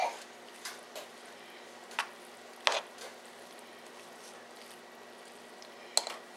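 A spoon stirring a sausage macaroni casserole mixture in a bowl, giving soft, sparse squishing and scraping taps over a steady low background hum.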